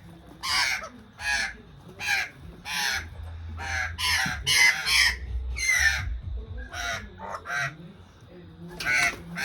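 Harsh, raucous bird calls ring out in a rapid series of loud, separate screeches, one after another, with a low murmur of background sound underneath.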